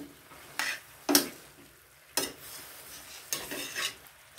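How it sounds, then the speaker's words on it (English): Zucchini is stirred into beef frying in a pan. A spatula scrapes and clatters in sharp strokes spaced about a second apart over a soft continuous sizzle, close and clear with no talking. "let's put the zucchini"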